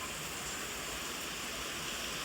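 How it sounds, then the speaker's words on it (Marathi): A sudden rain shower falls steadily in hot weather, a soft, even hiss of rain that stays faint and constant throughout with no talk. "हा अचानक कुठून पाऊस आला यार."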